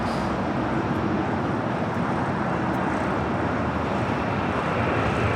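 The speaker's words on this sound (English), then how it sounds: "This is Delta Airlines 991 taking off to JFK on a 767-300ER." Steady broadband roar of a Delta Airlines Boeing 767-300ER taking off from LAX, a continuous even rumble filling the whole stretch with no voices.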